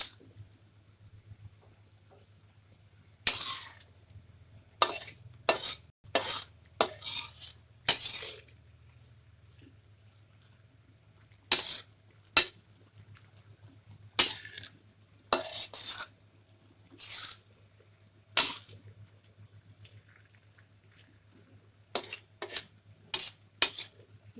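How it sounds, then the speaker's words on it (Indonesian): A utensil stirs banana blossom simmering in coconut milk in a pan. Intermittent scraping and clinking strokes come in irregular bursts over a faint, steady low hum, close and moderately quiet. "Kita biarkan sambil sesekali kita aduk ya"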